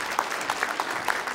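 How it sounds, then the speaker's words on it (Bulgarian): Audience at an awards ceremony applauds, a dense burst of clapping heard fairly close and continuous throughout the short moment. "Аплодисменти!"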